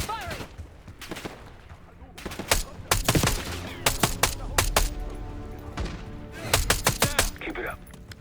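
Gunfire in the Black Ops 6 game crackles in dense bursts of sharp, loud shots, with rapid automatic runs and heavier thumps spread across the stretch and voices faintly underneath.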